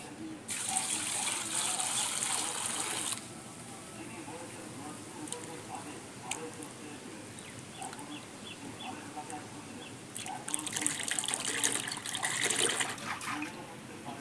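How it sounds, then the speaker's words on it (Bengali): Water gushes in two splashing bursts into molasses to dissolve it for a jeevamrut soil preparation, first for about three seconds, then again after a quieter stretch where a voice talks. "চিটে গুড়টাকে জল দিয়ে গুলে নেওয়ার"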